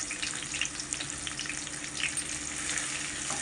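Onions sizzle in a hot pan for a prawn and capsicum curry, giving a steady, close hiss of frying that holds at an even level throughout with no talk.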